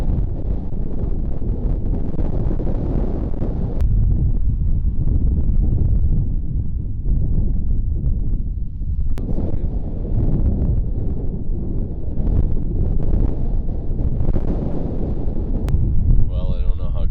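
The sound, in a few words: wind blowing over microphone on a hilltop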